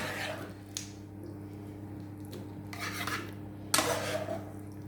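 Food is spooned and scraped into a large pan for a Cornish-inspired paella, with a few sharp metallic clinks and knocks of utensils against the pan over a low kitchen hum, fairly quiet and close.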